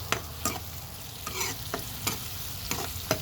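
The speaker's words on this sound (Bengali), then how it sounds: "এই পেঁয়াজের সাথে চিংড়ি মাছগুলো হালকা ভাজা হয়ে যাবে" Prawns frying with onions in a pan, crisp spatula scrapes recurring every half second or so over a gentle sizzle, close and clear with no talking.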